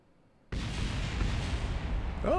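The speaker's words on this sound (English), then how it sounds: "Oh, we got a few explosions down there." Loud, sustained roaring blasts from rocket stage explosions in the space game Kerbal Space Program with the RP-1 mod. The sound bursts in abruptly and rumbles continuously, with no speech over it.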